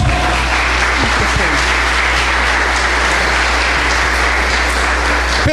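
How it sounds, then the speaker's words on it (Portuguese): A church congregation applauds throughout a service, with dense, sustained clapping that fills the room evenly, loud and continuous from start to finish. "Ah, você pode aplaudir a Deus?"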